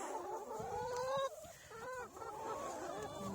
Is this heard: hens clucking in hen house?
yes